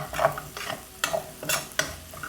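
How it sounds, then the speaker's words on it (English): Finely minced shallots sauté in a pan, giving a soft sizzle broken by several scraping stirs from a utensil, each one close and distinct. "We're gonna saute the shallots."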